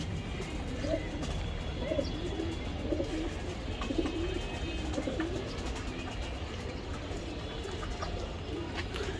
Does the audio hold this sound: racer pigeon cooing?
yes